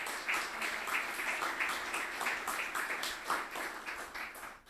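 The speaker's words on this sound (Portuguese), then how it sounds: "Vou pedir uma salva de palmas para o nosso aniversariante" An audience at a live gathering applauds a birthday person with sustained, dense clapping that ebbs and surges over several seconds, moderately distant and continuous.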